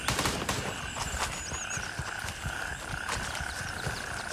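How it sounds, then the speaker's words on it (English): In the video game Gray Zone Warfare, a frog or toad croaks repeatedly amid dense outdoor ambience, with chirping calls and distant pops from gunfire. "Is that a frog or a toad?"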